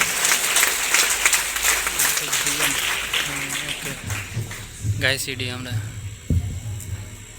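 A Bihar Day gathering applauds loudly to welcome the district magistrate. Dense clapping runs under a voice on a public address system, then thins out as amplified speech carries on.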